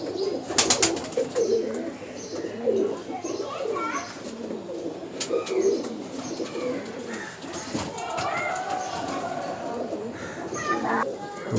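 Giribaz pigeons coo steadily through a busy pigeon market in Uluberia, their soft repeated calls mixing with nearby people talking and children's voices in the background.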